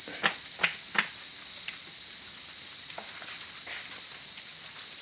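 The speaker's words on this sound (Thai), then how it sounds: "จิ้งหรีดนะครับ" Dense, steady chorus of crickets chirping close by, a constant high trill with a few faint taps and rustles underneath.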